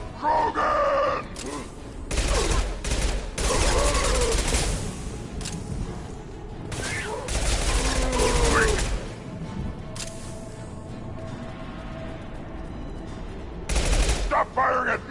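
Rapid bursts of gunfire from a Mass Effect Legendary Edition combat scene ring out in loud, repeated volleys across the span, mixed with shouting voices and game sound effects.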